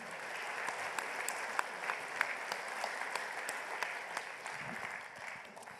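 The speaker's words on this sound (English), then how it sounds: "I think we should all give a round of applause to the speakers" An audience at a general assembly conference session claps for the speakers, a steady wash of many hands with a few sharper claps standing out, continuing evenly for several seconds before tapering slightly at the end.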